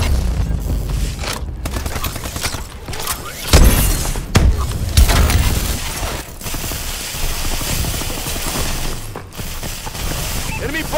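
Enemy bombing run explosions in a video game, a dense barrage of booms, cracks and clattering mechanical bursts, loud and close, with a heavy impact near the middle and game voice chatter mixed in.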